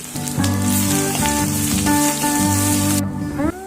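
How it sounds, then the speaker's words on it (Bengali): Chopped ginger and garlic hit hot oil in a pan and sizzle loudly and steadily, with tonal clinks and scraping over the hiss, which drops away abruptly near the end. "এখন তেলের মধ্যে দিয়ে দেবো আদা কুচি আর রসুনটা"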